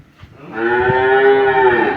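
One long, loud moo from a young dairy cow with no adult teeth yet, rising after a quiet start and holding steady and close for about a second and a half.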